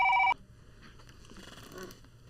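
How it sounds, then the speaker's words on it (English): A telephone rings in a short, loud tonal burst right at the start, then cuts off, leaving faint background noise and shuffling. "Is that a phone?"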